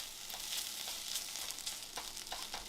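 Onions frying in a pan, a soft steady sizzle with faint crackles and occasional stirring scrapes, quiet and continuous with no talking.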